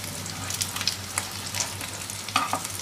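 Ragda pattice tikki frying on a hot griddle, a steady close sizzle with occasional crackling pops and brief scraping as the patties are tended.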